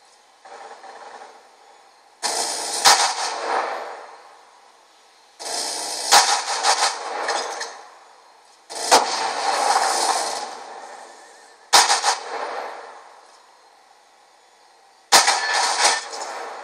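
A sentry gun fires in the multiplayer shooter Standoff, sounding as several sharp gunfire bursts, each opening with a crack and trailing into a harsh rasping roar, separated by short silences.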